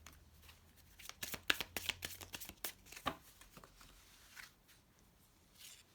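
Tarot cards are shuffled and drawn in quick, crisp riffles and flicks, close and fairly quiet, with a few softer slaps as cards are laid down near the end.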